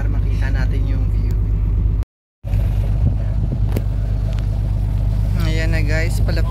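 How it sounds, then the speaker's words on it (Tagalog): A yacht's engine rumbles steadily and loudly nearby as the boat heads toward a marina. Someone talks over it throughout, and all sound briefly cuts out once. "At ngayon, kung naririnig nyo, umaandar na nga papunta dun sa marina na kung saan kami bababa."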